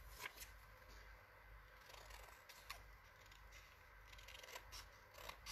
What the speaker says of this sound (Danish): Og der tager jeg bare en stor saks her.